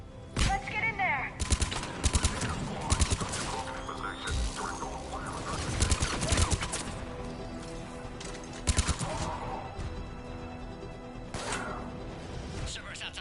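Gunfire crackles through a Mass Effect battle at a checkpoint, repeated bursts and single loud shots over a steady background rumble, with radio-style voices talking.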